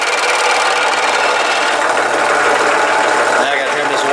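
A dull blade slowly cutting a homemade valve cover gasket for a Kohler Command engine makes a steady, continuous rasping scrape, loud and close, with a voice talking over it.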